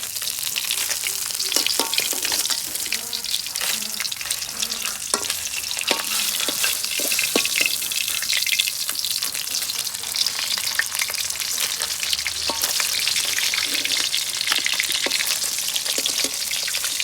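Pieces of katla fish crisp up in hot oil in a kadai with a loud, unbroken sizzle, a dense hiss laced with rapid spitting crackles like rain on a surface. It stays close and constant throughout, with no voices.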